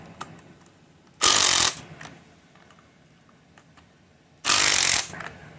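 A ratchet loosening the oil cooler bolts on a 2011 Mercedes GLK 350 (M272 engine) during an oil filter housing job: two loud, close bursts of rapid clicking separated by a quiet stretch of light workshop noise.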